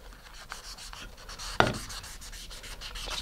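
Abrasive scuffing on fiberglass rocket fins just below a corner joint, prepping the surface for epoxy: a steady, close, low rasping rub broken by one sharp tap midway, with no talking.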